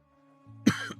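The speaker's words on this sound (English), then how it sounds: "Sorry about the coughing, guys." Two sharp coughs, the second following close after the first, break loudly over a faint low hum from a farming game playing in the background.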